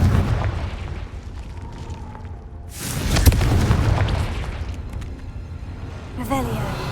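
In the video game Hogwarts Legacy, a Confringo fire spell goes off inside a cave with a deep booming blast around the middle, followed by rumbling debris and then a sharper burst near the end, loud and close.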